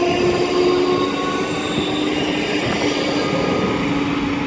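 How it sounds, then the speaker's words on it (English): A ScotRail Class 334 electric train departs Edinburgh Park, producing a steady rumbling roar with a faint motor whine and wheel hiss, loud and close throughout. "334036 is off with a 1038 ScotRail service to Helensburgh Central."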